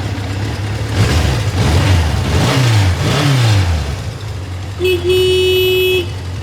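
A 1978 Suzuki GS550E motorcycle with electric start fires up and revs loudly and close, the engine rising and falling, before a short horn toot sounds near the end.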